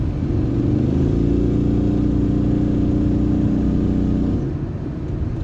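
A steady engine drone hums inside a Nissan e-NV200, a constant mid-pitched whir from an HY3200SEI range extender generator producing about 3.2 kilowatts, holding level before easing slightly near the end.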